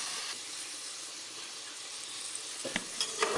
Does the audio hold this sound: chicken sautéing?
yes